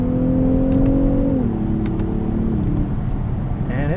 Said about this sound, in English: once those two turbos spool up, you get a pretty decent amount of shove